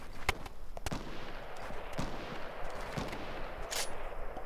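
Repeated sharp gunshot cracks from a heavy sniper rifle in the video game Fortnite, scattered bursts over steady game background noise, moderately loud with no talking.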